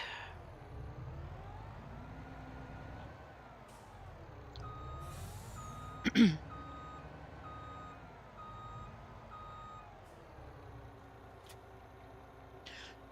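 Truck in Farming Simulator 25 driving and reversing, a low engine drone with a steady repeating reversing beep and a sharp air-brake hiss midway, no talking.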